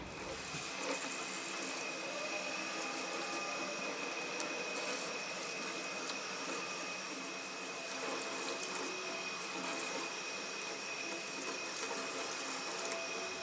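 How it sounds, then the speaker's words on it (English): Running water rinses conditioner out of a raw Indian straight/wavy hair wig unit, a steady close hiss of tap flow spraying and splashing continuously with no pauses. "And then we're going to rinse out all the conditioner."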